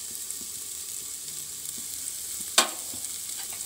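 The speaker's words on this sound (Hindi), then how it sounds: "मसाले को चलाते हुए भूनना है।" Spices with Kashmiri red chilli powder and kasuri methi roasting in a pan for chole, a low steady sizzle with faint stirring scrapes and one sharp clink of a spoon near the end.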